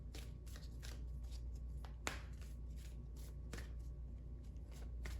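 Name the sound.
shuffling and drawing cards for a card reading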